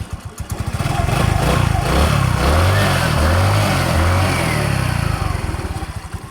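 A Rusi Royal motorcycle engine cranks and then catches after an electrical repair, settling into a steady, close, loud running putter with a slight rise and fall in pace.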